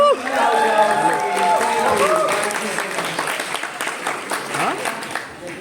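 A crowd at a Mumbai-style music video launch event applauds for Khushi Kapoor, with loud, dense clapping and cheering that fades slightly over several seconds, while an announcer's voice carries over it.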